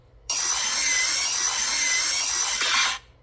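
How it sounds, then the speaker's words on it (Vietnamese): A power drill fitted with a sheet-metal cutter attachment slices through corrugated tin in one continuous high, buzzing whine lasting nearly three seconds, loud and close, starting and stopping abruptly. "các bác xem cắt tôn múi này, rất ok luôn, tôn thẳng cũng thế nhá, cắt rất là ngọt"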